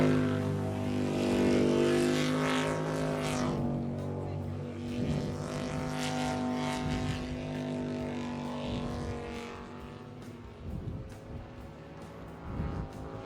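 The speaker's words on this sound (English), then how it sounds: "Love the noise of Dan's boat. And he stands on this throttle and he just doesn't get off it at all" A jet sprint racing boat engine at full throttle during a club race, its loud harmonic whine rising and sliding in pitch as it holds on without letting off, then fading slightly toward the end.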